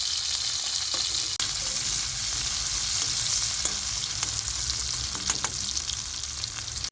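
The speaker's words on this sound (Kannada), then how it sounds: "ಹಿಂಗೆ ಎಣ್ಣೆ ಈರುಳ್ಳಿ ಹಾಕೊಂಡು ಹಿಂಗೆ ಹುರ್ಕೊಂಡು ಹಾಕೊಳ್ಳೋಣ" Chopped onion fries in plenty of hot oil for Mandya-style country chicken curry, giving a loud, continuous sizzle broken by a few sharp clicks and stirring scrapes close by.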